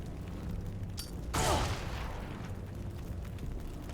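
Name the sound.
grenade explosion in video game Xenonauts 2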